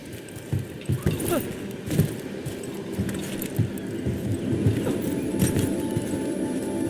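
Birds cooing in the fantasy video game Dragon Age: The Veilguard, soft repeated low coos with fluttering ticks and light clinks in a busy ambient scene.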